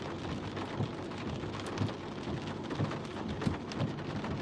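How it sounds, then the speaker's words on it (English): Heavy storm rain pours steadily over a Scottsdale, Arizona area during a thunderstorm, dense and close, with low rumbles of thunder and occasional thuds underneath. "big storm in Arizona. Thunder, lightning, wind, rain, flooding"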